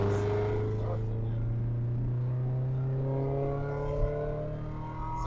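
Steady engine drone from a Subaru Impreza wagon pulling under acceleration, a strong low hum with rising harmonics holding close and loud for about five seconds, with little change in level.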